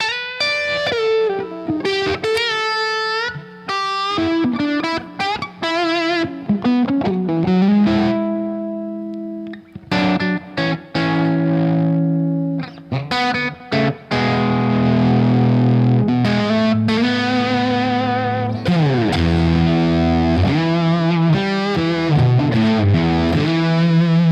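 Electric guitar through a fuzz pedal played over studio monitors, very loud and thick with distortion, mixing quick single-note riffs, slides and heavy sustained chords across a long continuous passage, alone.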